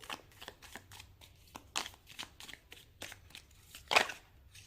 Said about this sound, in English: Let me just shuffle a few more cards to get more details in this.